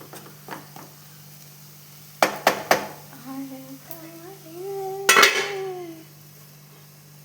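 A metal lid set down on a cooking pot of corn masala during stovetop cooking, heard as a few sharp close clanks amid light kitchen clatter, with a soft voice in the background.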